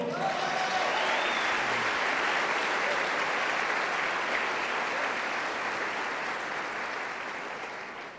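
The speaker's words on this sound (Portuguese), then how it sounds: "Por favor, alguém aqui precisa aplaudir o Senhor." Church congregation applauding during a sermon, a dense, steady wash of clapping from a large crowd that holds throughout and tapers slightly toward the end, with no speech over it.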